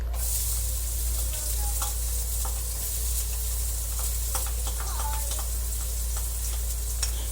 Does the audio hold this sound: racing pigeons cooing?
no